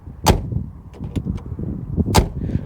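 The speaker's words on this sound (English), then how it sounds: "That is classic German engineering door thud" Two heavy, solid car door thuds from a 1989 Porsche 944 Turbo, about two seconds apart, each a sharp broadband impact with a short low rumble, over faint background noise.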